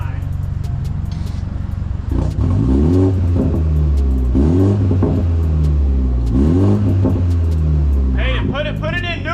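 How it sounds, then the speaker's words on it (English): A Yamaha R6 sport motorcycle's exhaust revs repeatedly, three or four sharp climbing blips rising and falling over a steady rumbling idle, loud and close, with people talking over it. "Let's hear this exhaust."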